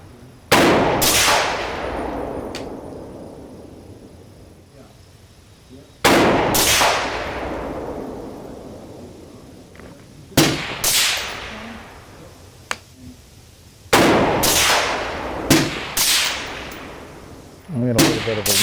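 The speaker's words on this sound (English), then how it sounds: "Let's go ahead and put 3 more rounds and see where those land." A PSA AR10 rifle fires rounds outdoors at a range, loud sharp cracks with ringing decays, several shots spaced a few seconds apart.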